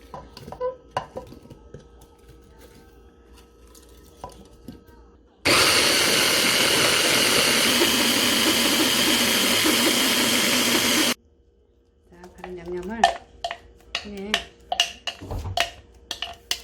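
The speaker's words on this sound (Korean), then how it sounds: "자 이렇게 믹서기에 양파하고 사과를 넣고" A blender whirs loudly for several seconds blending onion and apple, starting and stopping abruptly, with quieter kitchen clatter and knocks before and after.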